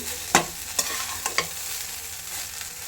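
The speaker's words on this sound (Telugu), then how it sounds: "వింటున్నారు కదండి చెట్పట్లాడుతుంది వినండి ఒకసారి" Egg fried rice stirred in a hot pan: a soft sizzling hiss runs throughout, with a few sharp scraping and crackling stirring strokes near the start, close by and with no talk.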